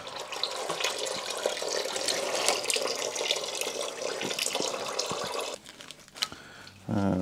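Automatic transmission fluid runs from the drain plug of a Volvo XC with a TG-81SC gearbox, a steady close splashing trickle that eases off near the end.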